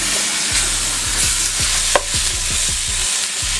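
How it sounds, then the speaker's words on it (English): Onions and spices are mixed into turkey in a hot pan for a curry, steady sizzling frying under a run of regular scraping stirs from a utensil, close and fairly loud, with no talking. "And now, mix all of that into the turkey."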